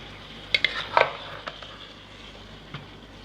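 The white part of a spring onion goes into a hot pan for vegetable biryani, giving a soft steady sizzle under a few sharp utensil clinks near the start.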